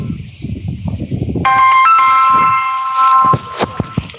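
A phone ringtone plays a bright electronic melody of sustained tones for about two seconds, preceded by someone talking close by and followed by a few short beeping notes.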